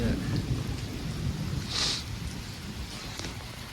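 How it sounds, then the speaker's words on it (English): Thunder rolling during a thunderstorm, a low rumble under steady rain pattering on surfaces, with a brief brighter crack in the middle, fairly distant and moderate in loudness. "I'm just gonna try to be quiet for a little bit, just film the thunder."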